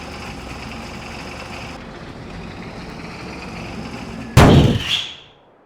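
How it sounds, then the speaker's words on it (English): A steady truck engine drone runs in Farming Simulator 22, then a sudden loud bang-like clunk erupts near the end as a piston rod seemingly fails, followed by a brief grinding rattle that quickly fades. "I think we threw a piston rod or something pretty bad."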